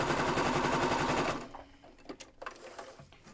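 A sewing machine stitching through several layers of fabric, a fast rhythmic mechanical chatter that runs loud and steady, then stops and gives way to soft clicks and handling noises.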